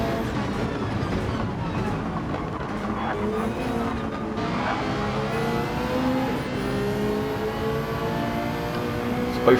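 Race cars from a racing video game whine and rev as they close up together, their engines rising and shifting through the gears. The roar runs steadily for the whole stretch, and a commentator's voice carries over it.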